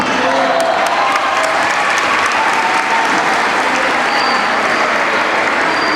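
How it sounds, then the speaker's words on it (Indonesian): A crowd at an orphan charity gathering with a religious lecture claps steadily and densely for several seconds, loud and continuous, with a faint murmur of voices underneath. "Jangan tepuk tangan, kau bukan burung."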